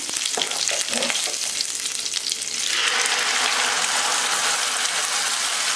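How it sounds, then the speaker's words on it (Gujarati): Cumin sputters and crackles in hot oil, with a dense, steady sizzle that swells louder partway through and holds close and continuous. "તેલ ગરમ થશે એટલે આપણે જીરું ઉમેરી દેવાનું છે"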